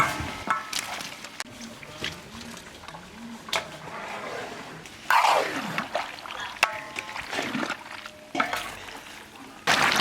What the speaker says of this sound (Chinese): 炒香下瘦肉